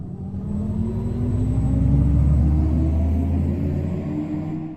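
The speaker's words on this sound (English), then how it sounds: "this artificial spaceship type of noise while driving the car" Audi e-tron GT's artificial spaceship-like drive sound while accelerating: a smooth rising synthetic hum with steadily climbing tones over a low rumble, loud and close, holding for several seconds before cutting off.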